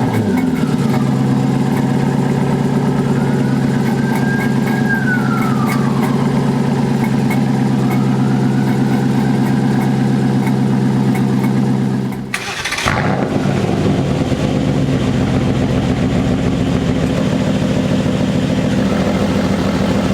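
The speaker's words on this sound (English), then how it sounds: "let's jump into the previous generation first and give that a cold start and hear what it sounds like" A previous-generation Aston Martin Vantage idles after a cold start, its engine holding a loud, steady low rumble with a slowly shifting tone. Near the middle there is a brief dip and a sharp burst, after which the idle carries on close by and alone.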